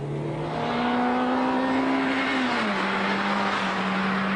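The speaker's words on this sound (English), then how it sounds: "From a standing start, it'll reach 60 in just under a wonderfully noisy 10 seconds" A tuned 1.6-litre, 103 bhp car engine accelerates hard from a standing start. It is loud and close, its note climbing steadily, then it drops briefly at a gear change before pulling again.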